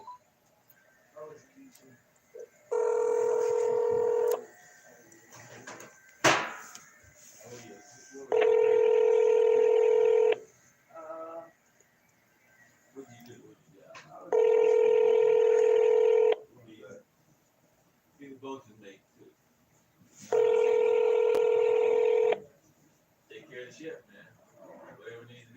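A telephone on an outgoing call rings back four times, long evenly spaced electronic ring bursts with pauses between, over faint background noise and a few clicks, while a voice occasionally speaks in the gaps.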